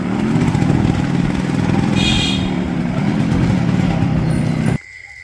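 A motorcycle riding along a village road, its engine droning steadily and loud up close for several seconds before cutting off abruptly near the end.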